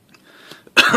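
A man clears his throat once, a short, close, rough burst after a few faint breaths and small mouth noises, alone with no talk.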